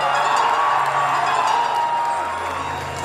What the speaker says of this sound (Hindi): हमारे चाचा के लिए हल्ला करके जोरदार ताली बजाओ